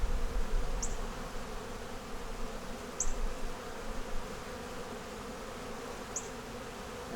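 Honey bees hum steadily around an open hive during a frame inspection, a dense continuous buzz throughout with a few brief brighter chirps standing out.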